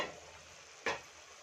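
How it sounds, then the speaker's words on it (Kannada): Ridge gourd fries in oil in a pan over a low flame with a quiet, steady sizzle, and one short, sharper burst of frying or stirring noise lands near the end. No voices are heard. "ನೋಡಿ, ಆಲ್ಮೋಸ್ಟು ಬೆಂದಿದೆ ಹೀರೆಕಾಯಿ ಎಣ್ಣೆಲೆ. ನೋಡಿ, ಇಷ್ಟು ಫ್ರೈ ಆದರೆ ಸಾಕು."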